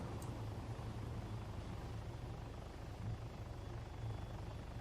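A helicopter in a video game gives a steady, dense rotor-and-engine drone that holds constant and fairly close throughout, with no talk over it.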